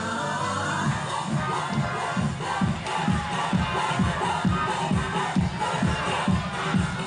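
Fans at a beach volleyball World Championship match in 2015 make a steady crowd murmur with rhythmic clapping, moderately loud and continuous throughout.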